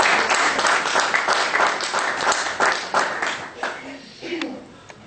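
A church congregation at a seminar claps and applauds together, dense at first and then thinning and fading out, with speech mixed in.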